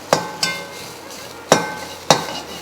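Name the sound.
roasting grated coconut in a pan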